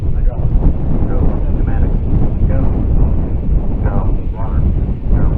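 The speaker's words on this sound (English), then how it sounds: "it is definitely getting really windy" Strong wind buffets the microphone at a rocket launch site, a loud, continuous low rumble with muffled voices talking underneath.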